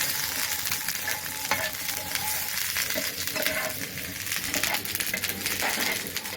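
Neem leaves frying in a pan with a little salt, giving a steady, close sizzle with stirring and scraping clicks that run throughout.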